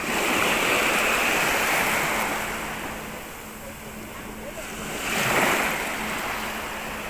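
Sea waves wash onto a clean beach in Mersin, Turkey, a steady broadband rush with a swell that fades and then builds again near the end. No one speaks over it.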